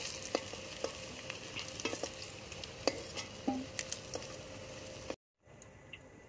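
Eggs and potatoes fry in hot oil with turmeric, a steady close sizzle broken by stirring clicks and scrapes, then cutting out to near silence before a softer hiss returns.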